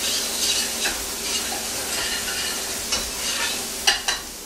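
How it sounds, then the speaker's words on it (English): Onions and shallots sizzle steadily in a pan while being stirred, with soft scraping and a couple of sharper utensil clicks against the pan near the end. "Let the onions and the shallots get tender, release their juices."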